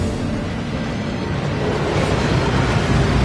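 A rushing waterfall in the Hogwarts Legacy video game roars as a steady, loud, broadband wash that stays constant throughout, with no voices over it.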